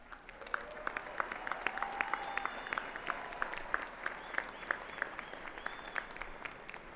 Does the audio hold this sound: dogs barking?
no